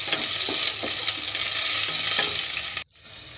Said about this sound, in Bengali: এবার রান্না করার জন্য আমি একটা পাত্রে দিয়েছি সরিষার তেল, পেঁয়াজ কুচি, কাঁচা লঙ্কা চেরা